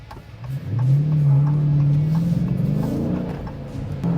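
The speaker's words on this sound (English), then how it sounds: "I want to see how fast I can burn off these tires." A 2023 Dodge Challenger V8 with a six-speed revs hard under heavy acceleration during a tire burnout. The loud, close engine tone climbs steadily and holds a sustained roar for several seconds.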